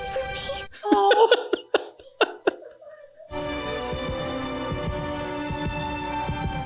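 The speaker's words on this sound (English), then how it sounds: "The heartbeat." Heartbeat sound effect from the Dragon Ball Super anime: a short run of soft, deep thumps in an uneven pulse, followed by a steady low humming tone.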